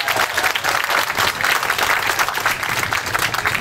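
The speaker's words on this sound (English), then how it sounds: "Let's give them a big round of applause." Audience applauding the organizers at an Irish Festival on the Miramichi, New Brunswick: steady, dense clapping from a crowd that holds an even level throughout.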